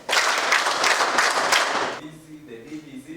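An audience at a university event claps loudly for about two seconds, then the applause fades away as a voice begins speaking.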